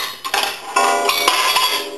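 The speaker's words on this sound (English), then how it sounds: "Let's go a quarter, and that'll gong." An A&E three-slot payphone sounding its gong as a quarter drops, a loud close metallic strike with a shimmering sustained ring, preceded by light coin rattles and no talk.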